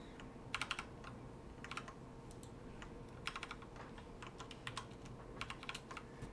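Typing on a computer keyboard while logging in, with bursts of quick, close key clicks in irregular runs over a steady low room hum.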